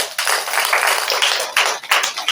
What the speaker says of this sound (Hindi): ताली तो बजाएंगे।